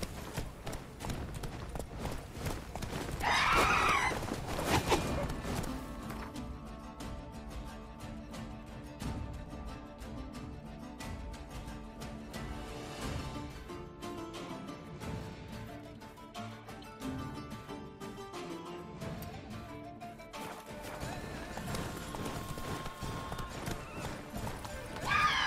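Horse hooves clip-clopping at a run through The Witcher 3 on PS4, with a brief whinny early on, steady and fairly close under game music and ambience.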